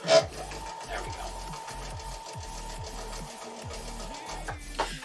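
A sewing machine chain pieces quilt pieces together, its needle running in steady rapid bursts with brief pauses between stitched runs, close and moderately loud.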